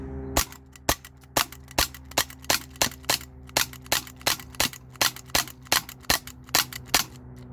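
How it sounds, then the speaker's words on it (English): A Glock 19X CO2-powered .177 BB pistol fires about nineteen sharp, evenly spaced shots at a can, each a crisp pop with a short ring, with a faint steady hum beneath. "That's the same can I was shooting with this BB pistol"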